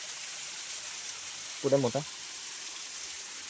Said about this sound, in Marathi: मस्त वरून एकदम पाणी येते.